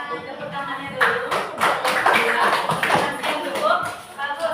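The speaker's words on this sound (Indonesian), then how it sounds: "Tepuk tangannya dulu" Schoolchildren clap in an elementary classroom, a burst of hand claps with uneven rhythm that rises after a second and fades near the end, mixed with voices and shuffling.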